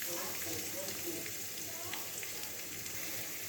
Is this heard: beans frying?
yes